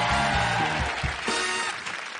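Crowd applause for a singer on a French TV variety show fills the space with dense, continuous clapping, loud and sustained throughout, with music and cheering mixed in underneath.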